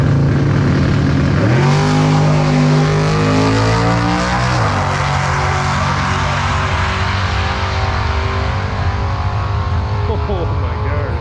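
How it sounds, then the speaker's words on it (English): A 1988 Chevrolet Beretta drag car launches down the strip at the Samoa Drag Races, its engine loud and close, revving hard and then pulling into a steady roar that carries under an announcer's voice. "Beretta to the line, the 1988 Chevrolet model."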